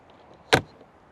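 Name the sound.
travel trailer pass-through storage door being opened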